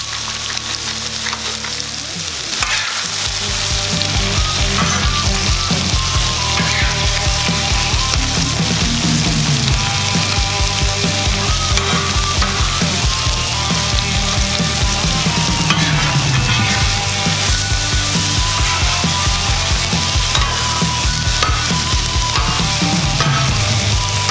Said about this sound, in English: We got the bacon right here. It's gonna render down.